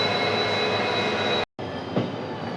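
A WDG4D diesel locomotive hauling an express pulls out of Bhaktinagar station with a steady, loud engine drone and rolling rumble, broken by one brief dropout.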